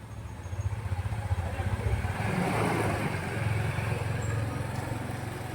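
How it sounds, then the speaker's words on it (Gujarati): A vehicle engine idles evenly just after being started with the self-starter, a low steady throb that thickens slightly midway and stays moderately close. "જો ગાડી કમ્પ્લીટ સ્ટાર્ટ."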